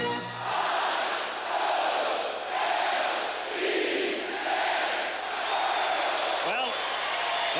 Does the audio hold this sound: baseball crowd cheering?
yes